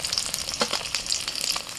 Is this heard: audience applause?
no